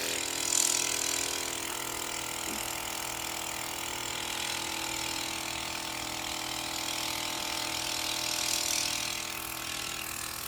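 A vacuum pump hums and rattles steadily while pulling air out of a 5 gallon bucket, a continuous mechanical drone with faint ratcheting texture, moderately quiet and alone.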